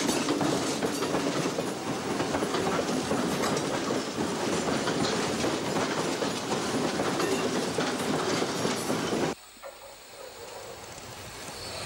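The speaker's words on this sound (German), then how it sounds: "befuhr ein Leerpark zum Stromschienenschleifen das neue Gleis" A Berlin BVG train rolls steadily along new track at Friedrichstraße station with a dense rumbling clatter, then the noise drops off abruptly near the end.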